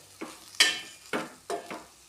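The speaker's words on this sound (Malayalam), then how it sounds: "മസാലകളെല്ലാം കൂടെ ഒന്ന് നന്നായിട്ട് മൂത്ത ഒരു മണമൊക്കെ വരട്ടെ" Spices and green chillies frying for a beef curry, heard as a few short bursts of sizzling and stirring scrapes spaced irregularly over a quiet background, close and crisp with no speech.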